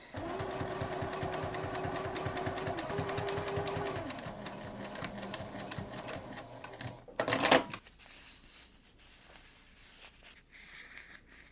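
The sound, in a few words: sewing machine stitching fabric seams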